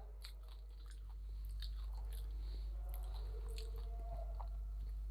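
Someone chews food close to the microphone, soft repeated crunching and moist mouth sounds over a strong low steady hum, with no talk.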